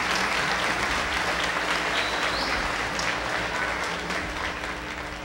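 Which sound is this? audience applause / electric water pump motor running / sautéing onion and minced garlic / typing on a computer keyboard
audience applause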